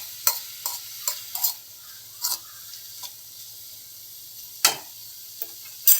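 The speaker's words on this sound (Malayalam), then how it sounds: "നല്ല കളർ മാറുന്നത് വരെ നമുക്കൊന്ന് വഴറ്റിയെടുക്കണം." Green peas and prawns with salt are sautéed in a pan: a soft, steady sizzle runs underneath while a spoon stirs and scrapes in short, irregular strokes, close up and without voices.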